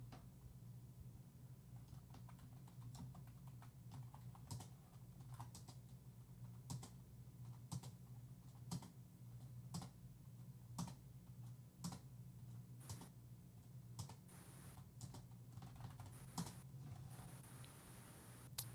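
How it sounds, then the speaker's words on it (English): Computer keyboard clicks, faint and distant, sound as an irregular patter of light taps over a steady low hum during a Little Mermaid NES speedrun race. "you might just be able to hear my keyboard clicks there"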